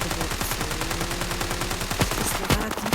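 Rapid automatic gunfire from a shooter video game, bursts of shots hammering steadily throughout with a few louder single reports near the end, loud and close.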